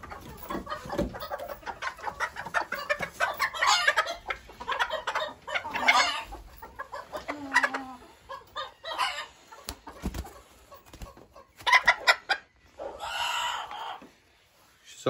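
A Silkie bantam hen clucks and murmurs in short bursts close by, with a few louder squawks and other fowl faintly in the background.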